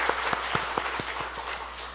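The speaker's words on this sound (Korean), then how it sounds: "우리 하나님께 영광의 박수 올리도록 하겠습니다" Rhythmic, steady clapping from a church congregation during a Sunday worship service, with evenly spaced hand claps at a moderate distance and no talking.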